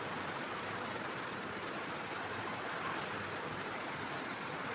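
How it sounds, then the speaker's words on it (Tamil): Steady rain falls outdoors as the sky darkens, a soft, even hiss of drops that stays constant and faint throughout, with no voices. "மழை ஸ்டார்ட் ஆகிடுச்சு."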